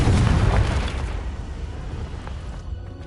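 A Confringo blasting spell goes off in a Harry Potter video game as a single loud boom that hits hard at once and then rumbles away over a few seconds.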